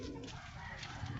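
Pigeons in a loft give soft, steady cooing and fluttering calls that run without a break through the short clip, fairly close and moderately loud, with no talking.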